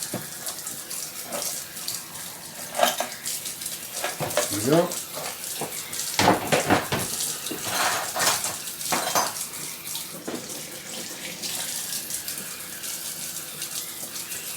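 Water poured from a container down a sink drain while cleaning Dinky Toy parts, a splashing, running flow with clinks of dishes and metal, continuous and fairly close, with a brief spoken remark near the end.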